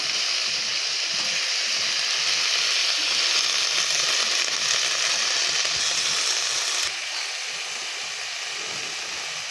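Kharkol leaves go into water already heating in a wok, giving a loud, steady hiss with a bubbling texture that runs the whole time and drops slightly in level near the end, with no talking.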